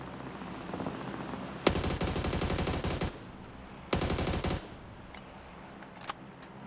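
Two long bursts of rapid automatic gunfire in the video game PUBG, loud and close, separated by a short pause, followed by a couple of faint clicks.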